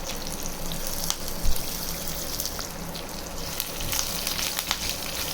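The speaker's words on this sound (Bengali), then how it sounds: "বাদামগুলো ভাজা হয়ে গেছে, এবারে আমি সব ফোড়নগুলো এর মধ্যে দিয়ে দেবো" Steady crackling sizzle of peanuts and whole spices frying in hot oil, with occasional sharp pops and light stirring, close and continuous, no talking.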